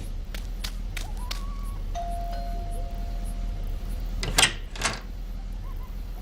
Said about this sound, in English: Victor Jordan, looking irritated and impatient, gets out of a hired car and strides to the door